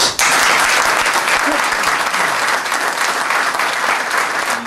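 A crowd bursts into loud, sustained applause after a brief pause, clapping densely and evenly for several seconds at a public event honouring a program leader, with faint voices mixed in.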